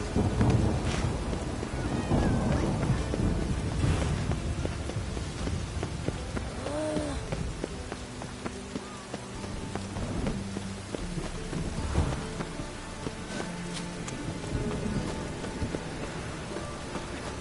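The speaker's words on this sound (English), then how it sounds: "It just rains and rains." Steady rain patters on surfaces in The Witcher 3, with occasional low thunder rumbles rolling through the downpour; no one speaks.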